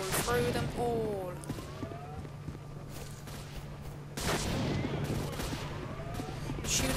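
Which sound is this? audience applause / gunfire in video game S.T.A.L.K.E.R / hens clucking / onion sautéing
gunfire in video game S.T.A.L.K.E.R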